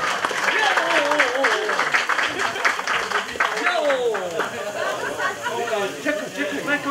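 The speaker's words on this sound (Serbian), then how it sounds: "Ajmo jedan aplauz za kumo" Wedding guests applauding, a dense patter of clapping mixed with chatter and raised voices across a lively hall.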